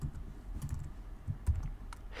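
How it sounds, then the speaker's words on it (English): Soft, quick clicks of keys being typed on a computer keyboard in a short irregular burst, close and quiet with no talking. "I'm going to start by typing header"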